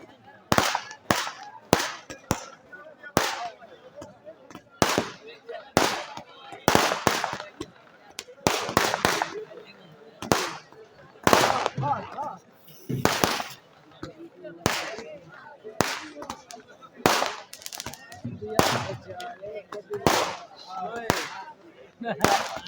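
Firecrackers and celebratory aerial gunfire at a street victory celebration: dozens of sharp, loud cracks and bangs in irregular bursts throughout, with a crowd murmuring underneath.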